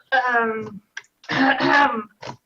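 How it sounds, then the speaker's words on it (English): A deliberate, voiced throat clearing, drawn out in two rough bursts with a short grunt after, close and fairly loud. "Clear my throat."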